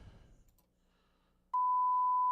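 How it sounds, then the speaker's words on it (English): A steady electronic beep sound effect, picked from an online sound library for a music beat, comes in abruptly after a quiet stretch and holds one loud, unbroken tone to the end. "No, that's not the beep we want."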